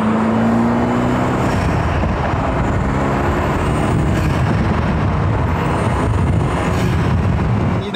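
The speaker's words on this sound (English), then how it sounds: "I want you guys to hear the induction sounds." Induction and engine note of a BMW F30 328i with budget performance mods, heard from inside the cabin while driving: a steady broadband rumble with a faint rising intake tone, moderately loud and continuous with no talking.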